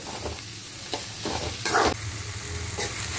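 Chopped green chillies sizzling in a pan for poori saag, a steady close frying hiss with a few stirring scrapes.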